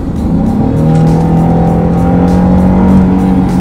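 A Jaguar XF engine accelerates steadily in normal mode on open road, a smooth rising hum with rumbling low tones, loud and close throughout with no talking.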